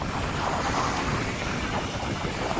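Steady rushing roar of sea surf washing onto the shore at Harihareshwar, broad and continuous with a windy, blustery edge and no pauses.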